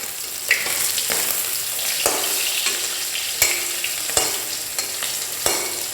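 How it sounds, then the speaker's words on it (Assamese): Pieces of rohu fish fry in hot oil, giving a loud, continuous sizzle up close, punctuated by regular sharp clicks and scrapes from a utensil turning the fish. "দেখিছে নহয় মাছখিনি ভাজি থকাটো দেখিছে নহয়"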